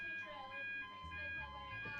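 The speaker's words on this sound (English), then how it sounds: "Ladies and gentlemen, that's the fire alarm." An indoor fire alarm sounds with steady, sustained electronic tones, fairly loud and continuous, with a voice briefly audible underneath.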